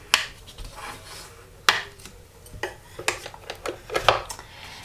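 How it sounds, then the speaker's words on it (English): Close, irregular scraping and rubbing as a folded paper card mat is burnished, with sharp little ticks and short rasps scattered across the moment. "just folding it in half, and then I'm going to burnish it"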